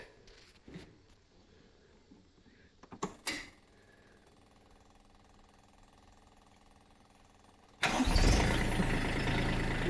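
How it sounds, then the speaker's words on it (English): A 3-cylinder diesel engine on a 3026H tractor cranks and catches near the end, roaring loudly into a steady run after several seconds of quiet rattles and clunks. "Okay, let's get her started and run it up and down."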